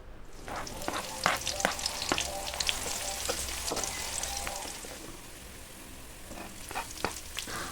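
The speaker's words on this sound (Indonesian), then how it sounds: "kemudian tumis dulu bawang putihnya serta bawang merahnya hingga harum" Garlic and shallots sautéing in a pan with a steady oily sizzle, broken by scattered sharp clicks and scrapes of a spatula stirring, fairly close and moderately loud throughout.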